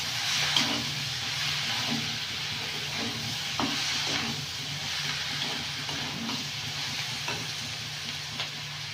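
Cabbage sautéed with salt sizzles and hisses steadily in a hot pan in a village kitchen, with soft scraping stirs throughout and no talk.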